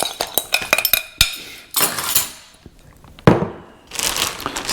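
Metal utensil scraping and clinking against a bowl as beef jerky marinade mixture is pushed into a bag, a run of sharp close taps and scrapes followed by longer rough scraping bursts, no talk.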